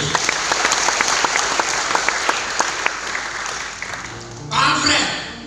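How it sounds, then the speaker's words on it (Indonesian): A church congregation at a Christmas celebration service breaks into dense, steady applause that fills the room, then swells into a louder burst near the end. "Tepuk tangan buat Tuhan Yesus."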